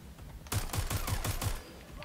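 Enemy gunfire in the video game Watch Dogs: Legion: a quick, even burst of about six sharp shots, fairly close and loud, with a low background hum before and after.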